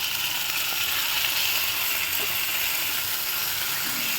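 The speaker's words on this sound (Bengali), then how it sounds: "টক দই দিয়ে মশলাটাকে ভালো করে কষাই নেব" Spice paste cooking with sour curd for a fish curry gives off a dense, even hiss of frying, steady and close throughout with no distinct strokes and no voices.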